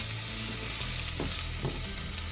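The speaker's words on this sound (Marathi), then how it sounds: "आणि ही लसूण चांगली आपण गोल्डन ब्राऊन होईपर्यंत थोडीशी या तेलात फ्राय करून घेणार आहे." Garlic frying in oil in a pan for a crab soup, a steady, close hiss and sizzle with a couple of brief stirring scrapes, no voices.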